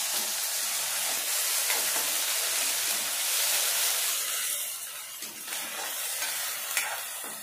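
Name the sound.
masala paste of coconut, coriander, ginger, garlic frying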